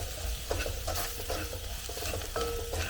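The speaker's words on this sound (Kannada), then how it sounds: "ಖಾರದ ಪುಡಿ ಹಾಕ್ಬಿಟ್ಟು ನಂತರ ದಾಲ್ನ ಮಿಕ್ಸ್ ಮಾಡಿ" Dal palak stirred in a pan after chilli powder goes into hot oil, a steady close sizzle of frying with a spoon scraping and knocking against the pan, no voices.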